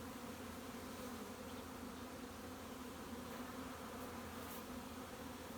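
Honeybees buzzing around hives in a beeyard, a steady faint drone of many insects continuing throughout with no talking.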